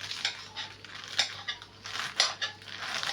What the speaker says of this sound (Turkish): kuru soğanımızı da ıspanağımızı da yemeklik doğrayalım